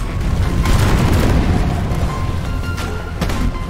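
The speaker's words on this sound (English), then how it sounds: "Grenade!" A grenade explosion in a video game, a loud, deep rumbling boom that fills the mix and rolls on with heavy low-end noise, followed by fainter crackling blasts.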